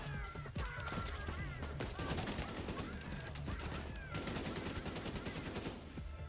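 Sustained turret gunfire in the shooter game The Division 2, a dense continuous rattle of rapid shots lasting throughout, loud against game music and effects.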